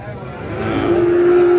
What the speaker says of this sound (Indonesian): Ada sapi jenis pegon.